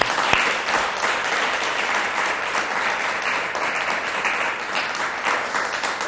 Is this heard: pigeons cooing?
no